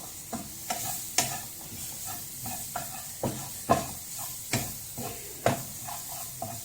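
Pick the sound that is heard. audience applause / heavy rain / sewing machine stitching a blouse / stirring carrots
stirring carrots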